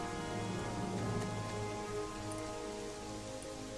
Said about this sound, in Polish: I znowu się rozpadało.